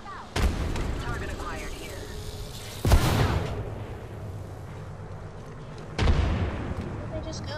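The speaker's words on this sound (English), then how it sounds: "Chucking a frag grenade." Explosions in a video game after a frag grenade is thrown, three deep booming blasts spaced a few seconds apart, each with a rumbling decay, mid-distance and moderately loud.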